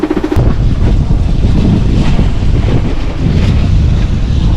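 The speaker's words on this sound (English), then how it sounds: "And that is the sweet sound of sailing" Wind buffets the microphone over steady wash and slap of waves while a sailboat moves under sail, a loud, constant roar with no speech.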